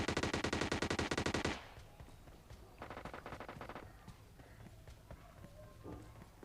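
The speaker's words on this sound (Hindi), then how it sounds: "बहुत सारी आवाज़ें आ रही थी गोलियों की" Rapid automatic gunfire from a BGMI battle royale match bursts loudly for over a second, then a quieter, more distant volley follows, with faint footstep-like movement afterward.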